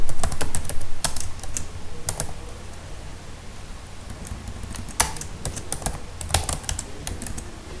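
Fast typing on a computer keyboard, close and crisp, with irregular runs of key clicks and brief pauses between bursts.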